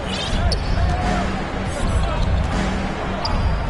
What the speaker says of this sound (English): it's McGee slamming it down